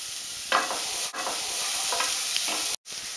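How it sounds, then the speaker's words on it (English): Chopped onion sofrito sweating in a pan for a corn, squash and bean risotto, giving a steady close sizzle with soft stirring scrapes and a brief gap near the end. "Just keep an eye on your vegetables, your sofrito, while it's sweating so it doesn't burn."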